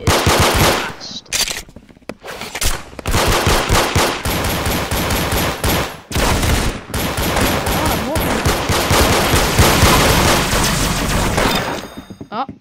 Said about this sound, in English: this gun, it does little damage, but it fires, like, its fire rate is fast